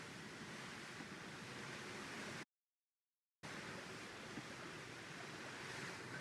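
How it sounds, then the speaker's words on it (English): Ocean waves heard from aboard the cruise ship Carnival Jubilee make a steady broadband wash with wind noise on the microphone, broken by a one-second dropout to silence before resuming at the same level. "I just noticed I can hear the ocean."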